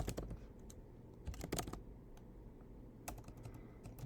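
Keys on a computer keyboard are tapped in short, quiet bursts as a search term is typed, close up with no talking.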